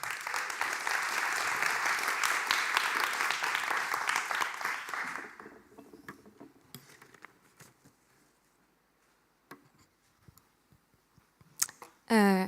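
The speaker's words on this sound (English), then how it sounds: "Give her a warm applause" A warm round of applause greets a pitcher from a creative agency at a Dutch graphic design event. Dense clapping fills the first five seconds, then dies away to scattered claps and quiet before a voice begins speaking.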